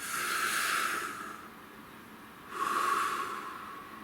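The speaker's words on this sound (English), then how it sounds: "Nice deep breath." Two slow, deep breaths drawn in and let out through the nose during a quiet tarot card reading, each a long soft airy rush, close and alone with no talking.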